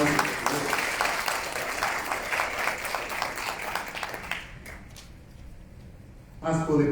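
Audience at a housing forum claps in a full, continuous burst that fades to a few scattered claps, then a voice briefly speaks near the end.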